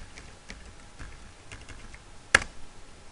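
A username and password are typed on a computer keyboard: light, quiet key clicks in an uneven rhythm, with one sharp louder keystroke near the end. No voices are heard.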